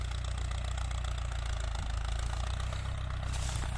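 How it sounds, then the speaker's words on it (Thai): A farm tractor runs at a cassava digging field, with a steady low engine drone at idle heard close and continuous, and no talk over it. "ผสมรถไถให้พี่น้องได้ดูไปด้วยครับ"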